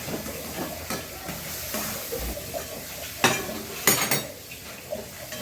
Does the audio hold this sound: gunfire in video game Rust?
no